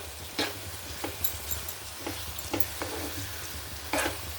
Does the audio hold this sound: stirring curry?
yes